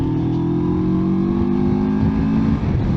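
2021 CF Moto MT650 motorcycle accelerating out of a roundabout, a steady rising engine drone heard close and loud from the rider's position, with wind noise and no talking.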